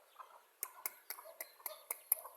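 Native (deshi) chickens peck at scattered rice grains, making a run of sharp, quick taps in an irregular rhythm, close and fairly quiet, with soft clucking underneath.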